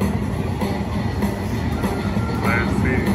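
A golden train arrives in the Cash Express slot game, a steady rumbling rail-like clatter with faint chimes and tones on top, loud and continuous throughout.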